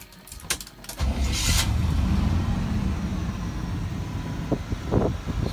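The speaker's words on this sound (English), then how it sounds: "Let me show you how the truck runs." A 1987 Chevy square body pickup cranks briefly and fires up, its engine settling into a loud, steady idle up close, with a couple of sharper clicks or knocks near the end.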